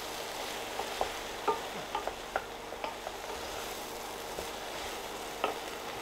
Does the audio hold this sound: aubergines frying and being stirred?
yes